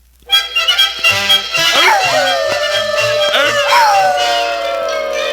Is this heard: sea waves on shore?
no